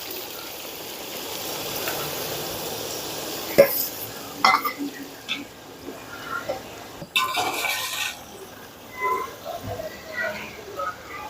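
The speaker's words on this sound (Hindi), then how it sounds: "ये मैं इसके अंदर कटी हुई प्याज डाल रही हूँ" Chopped onions go into open hot oil for degi-style chicken korma, a soft, low hiss of frying broken by a few sharp clatters and scrapes of a spoon against the pot, with no talking.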